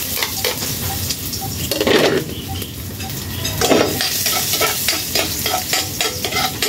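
Garlic sizzles in a hot frying pan while a utensil stirs and scrapes against it, with a few louder clatters of cookware standing out over the steady close-up sizzle.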